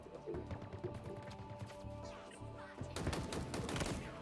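Video game firefight with thrown grenades exploding amid dense gunfire, a continuous busy mix of rapid shots and crashing blasts that intensifies into a louder, harsher barrage toward the end.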